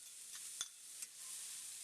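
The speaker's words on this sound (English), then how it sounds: "you can hear the sizzle" Onions sizzling in olive oil in a pan, a faint, steady hiss with a couple of soft clicks or pops, heard on its own.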